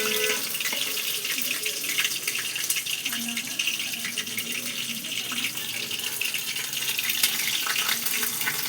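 Battered amudi fish pieces fry in hot oil in a pan, a steady close-up hiss and crackle that holds at an even level throughout.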